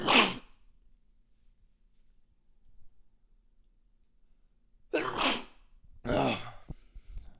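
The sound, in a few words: sneeze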